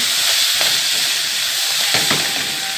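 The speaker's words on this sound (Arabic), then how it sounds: "نشوح الرز كده بالسمنه والزيت والفلفل الاسود والملح" Rice sautés in ghee and oil with black pepper and salt in a pot: a loud, continuous close-up hiss and sizzle, with a couple of brief scraping stirs near the end.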